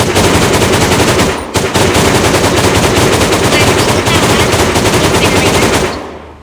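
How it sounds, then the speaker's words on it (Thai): Loud, continuous machine gun fire in the video game Melon Playground, a long rattling burst with a brief break near the start, then tailing off at the end. "ดังนั้นฉันเอาปืนนี้ยิง"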